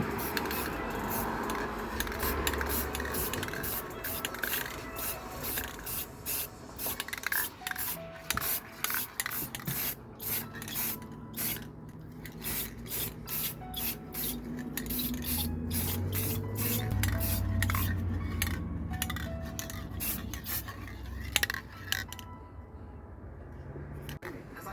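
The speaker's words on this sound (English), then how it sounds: "Just gonna put a couple more sprays on that area there" Clear coat sprayed from a rattle can onto a junkyard Honda hubcap in short bursts, each hiss of the nozzle separated by brief pauses, close and fairly quiet, with rubbing and handling sounds between passes.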